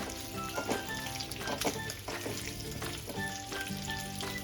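Pieces roasting in ghee in a pan give a soft, steady frying sizzle, fairly quiet, with occasional light pops and stirring clatters.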